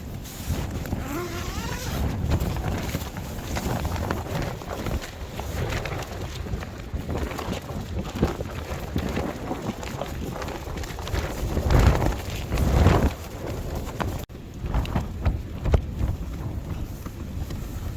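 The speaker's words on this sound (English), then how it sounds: "It does sound very windy, but it's only a bit of wind" Constant rushing wind on the Scottish coast in winter buffets the microphone throughout, with gusty rumbles and a steady broadband roar, no voices present.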